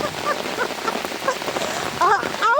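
Heavy rain falling in a dense, steady hiss close by, with voices talking over the downpour.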